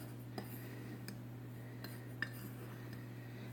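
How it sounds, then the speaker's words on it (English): A utensil stirs sugar and cornstarch in a bowl while making an Instant Pot cheesecake, soft scraping with a few faint clinks against the side over a steady low hum. "So to my sugar, I'm going to add my cornstarch. Just give that a mix."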